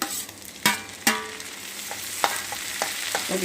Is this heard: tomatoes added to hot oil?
yes